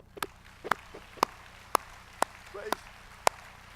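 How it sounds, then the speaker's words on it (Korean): Sparse, sharp claps at a church gathering ring out one at a time at irregular intervals, echoing in a large room, with faint murmuring in the background. "하나님께 박수합시다."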